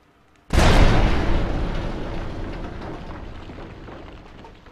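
Grenades explode in Fallout's Tale of Two Wastelands: one sudden, loud, close blast with a deep booming body, then a long rumbling tail that fades slowly without fully dying away.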